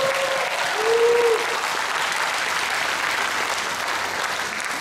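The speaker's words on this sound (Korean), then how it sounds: "불교TV 여러분 큰 박수 한번 주세요." Loud, sustained audience applause at an outdoor lotus festival concert at a Buddhist temple, a dense even wash of clapping filling the whole stretch, with a brief tonal sound near the start.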